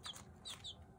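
Young hens clucking in a hen house, a few short high clucks spaced across the second, close by over a low background rumble.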